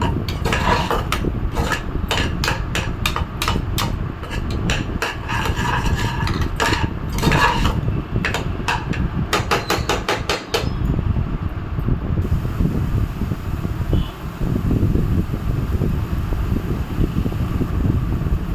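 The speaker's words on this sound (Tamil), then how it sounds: "ஸோ இதெல்லாம் ஆட் பண்ணதுமே நல்லா ஃப்ரை பண்ணிக்கலாம்" Mutton paya masala frying in a pan, with steady broadband sizzle and repeated metallic scraping clicks of a spatula stirring against the pan, close and continuous with no speech.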